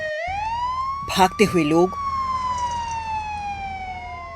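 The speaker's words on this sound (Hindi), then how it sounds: "एम्बुलेंस की सायरन" An ambulance siren wails, sweeping steadily up and down, loud and continuous, while a person's voice briefly cuts in over it partway through.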